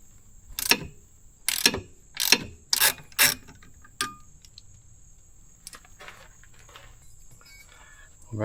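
A ratchet wrench loosens 14 millimeter bolts on a CFMoto ZForce side-by-side, clicking in five loud, close bursts followed by quieter scattered taps and clinks.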